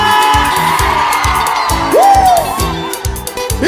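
A crowd at a live concert shouts and cheers over a loud, steady thumping band beat, with a rising whoop near the middle.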